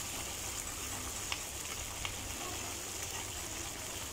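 Curry leaves and spices fry in hot oil for amla pickle, making a steady close sizzle with a couple of faint clicks from stirring, with no talking.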